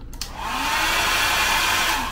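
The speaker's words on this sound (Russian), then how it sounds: "И вот он, хорошо работающий фен." A hair dryer blows steadily at full speed on a 220-volt outlet in a Cebu resort hotel room, a loud continuous whoosh starting after a brief click and holding alone for about two seconds.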